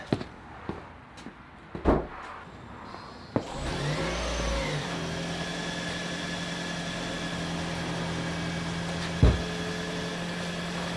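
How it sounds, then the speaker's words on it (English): A few clicks and knocks, then a Toyota Corolla's engine turns over and settles into a steady idle hum that continues to the end. "Turn the car on."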